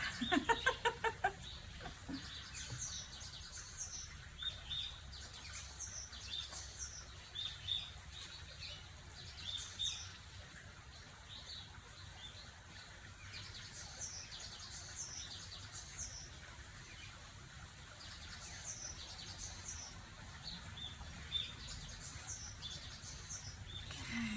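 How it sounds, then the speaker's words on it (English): Several birds chirp and twitter faintly outdoors in short scattered calls over a steady low background of running water, with occasional louder bursts near the start. "how many birds I've got singing in the background here"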